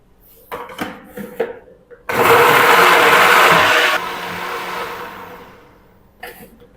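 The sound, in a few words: blender grinding a masala paste with water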